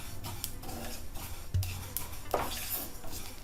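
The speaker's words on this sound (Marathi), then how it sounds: "तीळ आपली छान भाजली जाते तिचा आता आवाज यायला लागला" Sesame seeds dry-roasting in a pan for gulachi poli give faint scattered crackles and light clinks of a spoon against the pan, quiet and close, with no talk.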